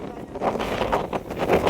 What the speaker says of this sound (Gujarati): હાય હાય પવન પવન પવન